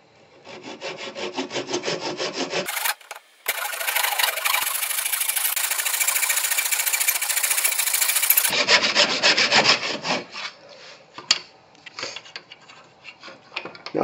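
A wood segment piece is cut down with a saw: loud, rhythmic rasping strokes close by, with a steady continuous cutting section in the middle and a brief pause before it.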